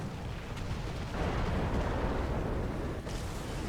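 Burning tank in a World War II tank game erupting with a deep, sustained roaring blast that fills the whole stretch, loud and dense with rumbling crackle, no speech.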